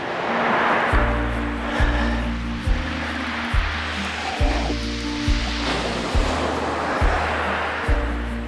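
Surf rolls and breaks on Chesil Beach at first light, a broad continuous wash of waves with a low rhythmic thumping underneath at roughly one-second intervals, no talking.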